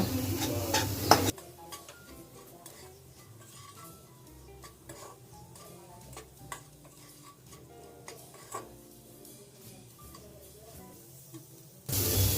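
Salt, turmeric, coriander powder, chaat masala and chili flakes get mixed in a pan, heard as quiet, steady stirring and light scraping with faint clinks of a utensil, close by, with louder bursts at the start and end.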